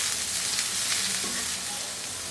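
Chopped onions sizzle steadily in a frying pan, a dense, even crackle of hot oil that holds at a constant level for the short stretch with no voices over it.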